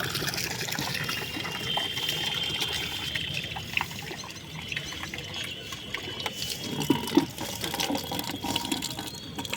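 Water sprayed onto a house rooftop to cool it in summer heat, a steady trickling, splashing wash with small irregular spatters, fairly close and moderately quiet, no talking.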